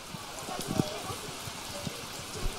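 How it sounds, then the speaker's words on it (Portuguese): Rain falls steadily on the grass pitch at Gávea during a women's Carioca final between Flamengo and Botafogo, heard as a constant soft hiss with scattered patters, captured by a pitchside ambient microphone. "vocês escutarem o quanto de chuva tá caindo"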